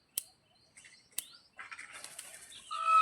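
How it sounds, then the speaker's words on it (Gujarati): A peahen takes off in a forest, its wings giving sharp, close flapping bursts followed by a fluttering rustle as it flies away, with faint bird chirps and insects around. "જો ઢેલ જાય છે,"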